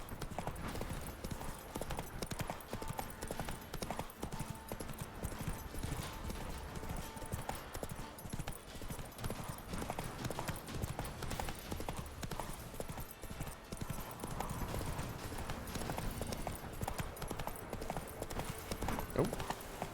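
Horse hooves clip-clop steadily throughout a long ride in the video game The Witcher 3, a continuous rhythmic trot at moderate loudness beneath game ambience and occasional voices.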